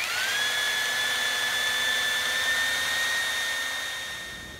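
Carbide drill bit boring into marble, a steady high-pitched whine with a sustained grinding hiss that holds for several seconds before easing off.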